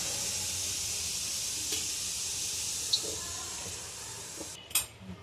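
Oil pours into a hot pan for Rajasthani mirchi ka kutta, with crushed green chilli and garlic waiting. A steady, bright sizzling hiss runs throughout, broken by a few small metallic clinks near the end.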